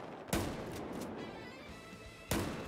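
Two heavy shotgun blasts in Battlefield 4, spaced about two seconds apart, each a sharp loud boom fading into a rumbling tail over low game ambience.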